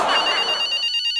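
A telephone rings with a short electronic ringtone burst that fades as it ends, heard close and alone.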